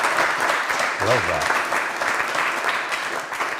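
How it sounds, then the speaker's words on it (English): An audience claps steadily throughout a live storytelling event. A voice speaks briefly over the clapping. "big round of applause"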